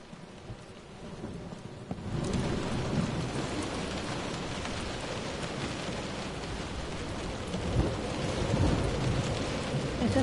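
Heavy rain pours down steadily in the video game Close to the Sun, growing louder and fuller after a quieter start, with deep thunder rumbling beneath the downpour.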